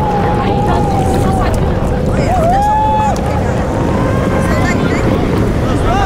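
A jet ski accelerates on open water, its engine whine climbing in pitch over a constant roar of wind and spray buffeting the microphone, loud and close throughout.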